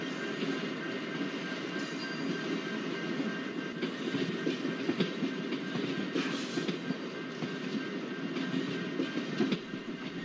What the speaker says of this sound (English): 20901 express train, which is full of Utkrish coaches.